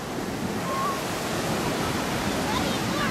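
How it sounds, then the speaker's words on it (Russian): Continuous surf rushes in at Baker Beach, San Francisco, a dense steady wash of breaking ocean waves, fairly loud and unbroken from start to finish. "Какие волны."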